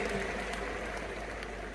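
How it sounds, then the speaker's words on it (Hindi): An audience at a company anniversary program breaks into loud, sustained applause, a dense wash of many hands clapping evenly throughout, heard alone without voices. "एक बार बहुत जोरदार तालियों से आप सभी का अभिनंदन"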